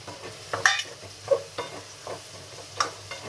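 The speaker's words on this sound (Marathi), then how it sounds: "आता मी शिमला मिरची आणि गाजर टाकणार याच्यात" Capsicum and carrot tossed into sizzling paneer masala in oily spice paste, giving a few sharp hissing bursts and stirring scrapes spread across a quiet, low-level background.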